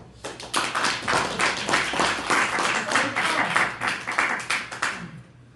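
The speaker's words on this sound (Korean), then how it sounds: "박수." Classroom audience clapping at the start of a first-year mechanical engineering student group presentation, a brisk burst of many hands that swells and pulses before tapering off.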